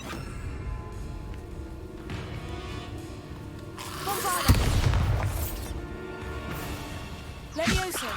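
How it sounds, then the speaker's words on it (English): A Bombarda spell's overhead slam explodes in Hogwarts Legacy, a heavy booming thump around the middle amid game effects, followed by a rumbling tail and a second sharper burst near the end. "Overhead slam with Bombarda."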